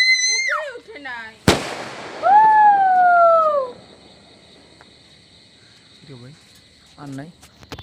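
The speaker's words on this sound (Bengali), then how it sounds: "তো গাইস আমি জীবনে প্রথম এরকম আতশবাজি ফাটালাম" A firework set off during Eid ul-Fitr celebrations at a family home goes off with one sharp, loud bang close by. A rising then falling whistling tone follows, and voices can be heard around it.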